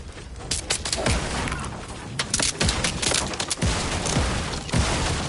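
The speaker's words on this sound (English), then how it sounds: "Oh, shoot. They're shooting me." Enemy gunfire in a shooter video game, sharp repeated shots and short volleys at close range, irregular bursts over a steady noisy background.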